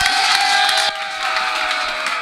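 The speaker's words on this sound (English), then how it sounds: "Let's have a big round of applause for the hilarious Paul D'Angelo" Live comedy-show audience in a small studio cheers and claps for comedian Paul D'Angelo, a dense, loud wash of whooping and applause that dips briefly and then swells again.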